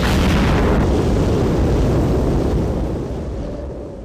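A nuclear explosion on the open Kazakh steppe: a loud, broad roaring rumble that fills the whole stretch and slowly fades toward the end, with no voices.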